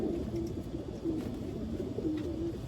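A white grizzle racing pigeon coos softly in repeated low rolling phrases, close by and fairly quiet over a steady background hum.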